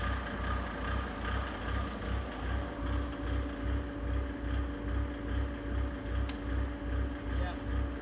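A Mercedes OM606 diesel engine installed in a Y61 Nissan Patrol runs close by with a steady, pulsing low rumble that rises slightly as it is revved, while people talk over it.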